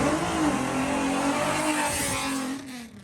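An Audi RS6 accelerates hard in a drag race, a loud, close, sustained engine roar with rising pitch that holds steady, then fades slightly near the end.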